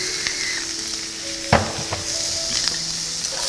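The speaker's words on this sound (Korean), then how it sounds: "그리고 골고루 다시 섞어주세요." Zucchini frying in a pan with salt and pepper while being stirred: a steady close sizzle with scraping stir strokes and a sharper clatter near the middle.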